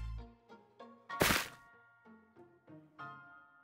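A pressure plate being broken in Minecraft: a single loud, sharp thwack-like crunch in the middle, set among soft plucked musical tones in the background.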